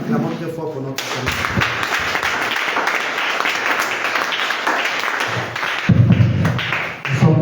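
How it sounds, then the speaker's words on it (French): Church congregation clapping and cheering loudly, a dense burst of applause lasting several seconds, with a voice speaking at the start and again as it fades near the end. "Acclamons très fort pour notre Seigneur"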